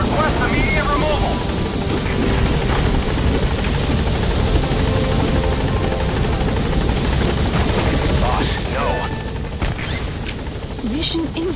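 Helicopter in the Metal Gear Solid V video game hovering and descending to land, a loud steady rotor roar filling the whole stretch, with brief game effects and radio-style voice chatter mixed in.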